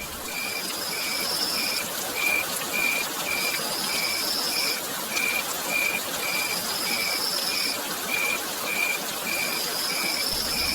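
Crickets chirp at night in a remote village during rain, their steady rhythmic pulses repeating over a constant hiss of rainfall, with no voices.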